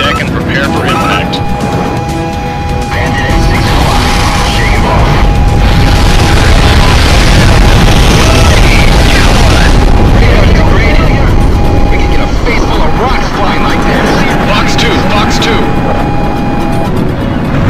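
Heavy explosions and roaring jet aircraft in the combat flight game Ace Combat 04, a loud continuous rumble of booms and engine noise with a sustained tone running through it and radio chatter over the top.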